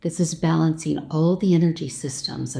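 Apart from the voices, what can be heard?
None of the usual background noises is heard.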